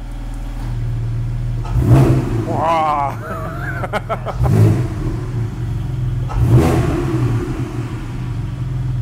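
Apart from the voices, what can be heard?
car engine revving, exhaust valves closed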